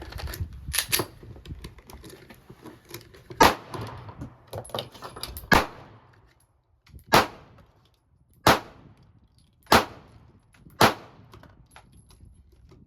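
Springfield Armory Hellcat pistol fired at a range: about eight sharp, loud gunshots, a quick cluster early then evenly spaced single shots, with faint clinks and handling noise between.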